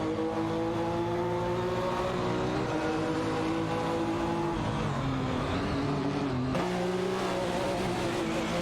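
Race cars, a McLaren F1 LM and a Ferrari F50 GT, in a racing video game, with loud sustained engine drones and shifting pitch as they accelerate and change gear, a brief shift near the end.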